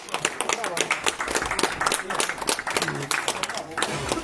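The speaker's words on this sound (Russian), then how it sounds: "Аплодисмент" Crowd applause at a women's Russian boxing championship bout between Kostroma and Saint Petersburg, with steady, dense clapping filling the hall while voices talk over it.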